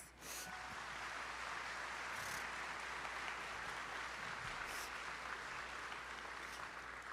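Applause from guests at a children's charity awards luncheon honouring board members, a steady, moderately quiet wash of clapping that continues evenly throughout.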